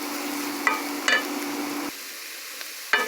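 Mushrooms sauté in garlic butter in a pan for creamy pasta, giving a steady close sizzle broken by a few light utensil clinks and stirring scrapes.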